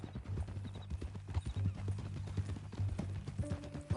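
Horse hooves clip-clop in a steady rhythmic walk, fairly faint and continuous, with a low hum underneath and a brief neigh-like tone near the end.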